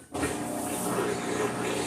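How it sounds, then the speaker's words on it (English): A Whirlpool, Maytag or Amana washing machine drain pump kicks in after a brief pause and runs continuously, a steady mechanical whir with a low humming drone and a constant noisy wash on top. "that's the sound of a normal pump"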